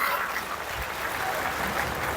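A crowd at a political rally for the chief minister claps in a steady, dense wash of applause that holds at an even level throughout, with no single claps standing out.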